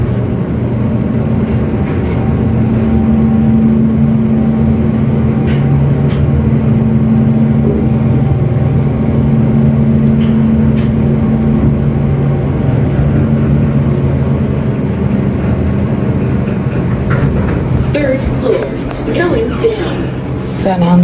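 A Canadian TKE hydraulic elevator in an office building runs with a loud, steady motor whir and hum for the full stretch, rattling and clunking toward the end, while a person talks over it.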